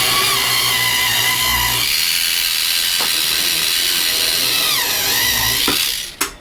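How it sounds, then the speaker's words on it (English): Dremel rotary tool fitted with a 90-degree angle attachment drilling mounting holes through a B-29 main gear door bracket, a steady high-pitched whine running close and continuous, with brief clicks near the end as it winds down. "I'm going to take my Dremel tool with the 90-degree angle attachment, and then I'm just going to use the holes that are in the bracket to drill the mounting holes"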